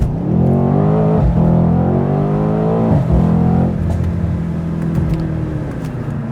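A 2019 Mercedes-AMG C63 S, 503 horsepower, accelerating hard with a deep, loud exhaust note that rises through the revs, a brief dip near a gear change, then climbs again steadily without speech.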